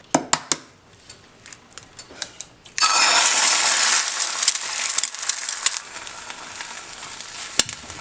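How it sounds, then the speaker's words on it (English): An egg dropped into hot oil in a stainless steel pan bursts into loud, close sizzling that stays strong and then eases slightly, following a few sharp taps and clicks of the shell and pan. "We're gonna try it with a fried egg."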